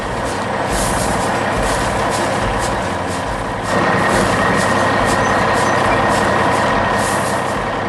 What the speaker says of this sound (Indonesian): Truk merah dan mesin konstruksi oranye terus bergerak di sini.